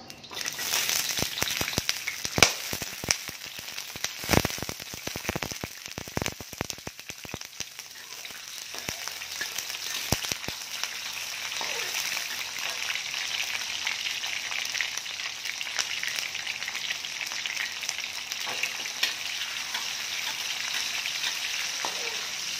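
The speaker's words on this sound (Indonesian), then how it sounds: "Kita goreng dulu sebentar ya petainya." Petai beans sizzle and crackle steadily in hot oil, with sharp pops and clicks early on, then a constant, even frying hiss throughout.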